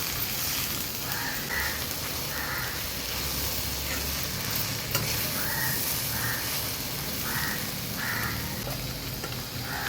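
Shevale and dried shrimp (sode) are stirred in a pan with a soft, steady sizzle and occasional scraping. Crows caw repeatedly in the distance.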